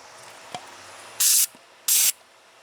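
Two short, loud bursts of engine degreaser spray hiss from an aerosol can aimed at an oil puddle on a Bobcat T300 skid steer, with faint clicks and drips between them.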